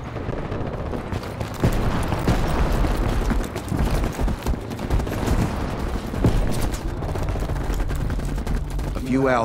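Dense, continuous gunfire and explosive booms in the video game Call of Duty: Black Ops Cold War, with bursts and blasts layered over a steady battle roar and some voices underneath.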